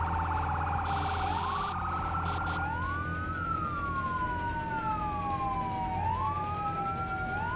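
A wailing electronic fire truck siren in a firefighting simulator video game sweeps up and down repeatedly, loud and steady, over a low engine drone with no talking.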